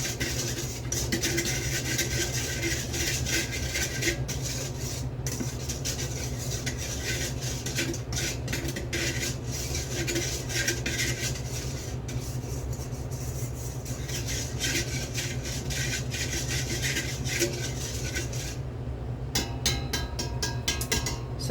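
Bread dough ingredients, flour with salt, yeast and olive oil, are stirred and scraped in a bowl, giving a steady continuous rubbing and clinking of utensil against the bowl that is close and moderately loud, without speech.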